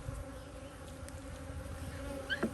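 Honeybees at a newly split hive in an outdoor bee yard, a steady low buzz of many insects with a few individual bees droning closer and louder near the end.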